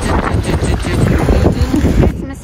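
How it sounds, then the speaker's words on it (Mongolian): Wind blows outdoors on a sunny day in Galway, Ireland, buffeting the microphone in loud, continuous rumbling gusts that ease slightly at the very end. "Гэхдээ өнөөдөр амар нартай хэрнээ салхитай байна."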